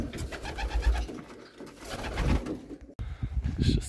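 Low, throaty pigeon cooing from several birds, soft rolling calls overlapping continuously close by, with a brief rustle near the end.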